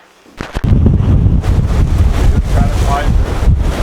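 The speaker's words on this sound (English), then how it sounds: "When did the wind pick up?" Strong wind buffeting the microphone outdoors in a valley at an off-road race, a loud continuous roar with gusting swells after a few sharp knocks at the start.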